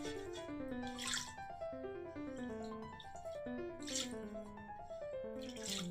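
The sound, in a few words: water poured into pot of kacchi chicken biryani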